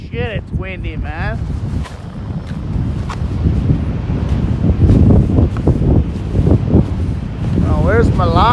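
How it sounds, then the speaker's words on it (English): Strong wind roars and buffets the microphone during snowmobiling, with a loud rushing bluster throughout, and a voice calls out over it. "Holy shit, it's windy,"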